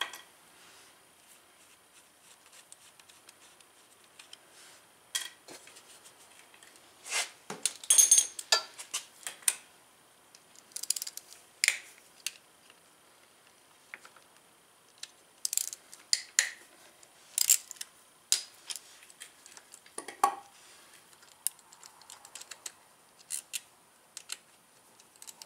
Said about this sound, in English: We'll get these bolts pulled off here first.